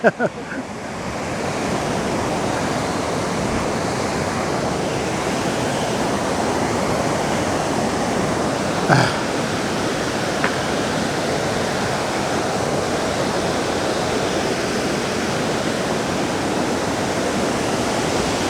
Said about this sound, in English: Is there just a big pipe up here pouring all this water out?